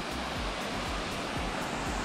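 Waterfall at Cachoeira da Parida in Serra da Canastra, Minas Gerais: a steady, dense roar of falling water fills the whole moment, loud and continuous with no voices over it.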